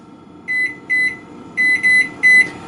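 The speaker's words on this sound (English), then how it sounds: "We'll set a kitchen timer for another 5 minutes." A kitchen timer set while garlic bread bakes gives five short, clear electronic beeps at close range, spaced irregularly in pairs and singles over a quiet room background.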